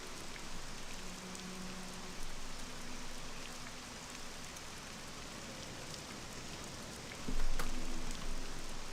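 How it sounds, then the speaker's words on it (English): Rain falls steadily in the video game The Elder Scrolls III: Morrowind, a constant broad hiss of drops with a few louder surges, no voices heard. "All I know is that I'm getting rained on."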